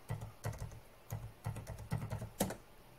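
A password is typed on a computer keyboard in short bursts of crisp key clicks, with brief pauses between groups and a sharper tap near the end, recorded close with no talk.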